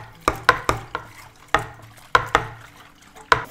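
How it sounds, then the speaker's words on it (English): Homebrewed Pacific Ale wort being stirred in a fermenter: irregular wet sloshes and splashes land every half second or so, close and moderately loud, with no talk over them. "I'll get in there and give this a big old stir"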